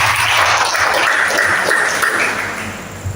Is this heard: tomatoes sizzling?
no